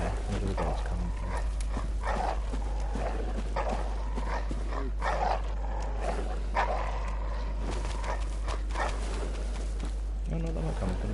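Hostile dogs bark and yelp in the video game Bloodborne, with repeated sharp barks scattered through the scene under a player's ongoing talk and game noise.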